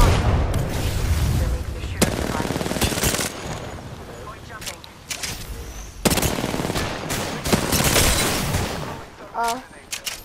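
Rapid video-game gunfire with bursts of automatic shots and heavy impacts crackling in quick clusters, loud and near, mixed with players talking over the action.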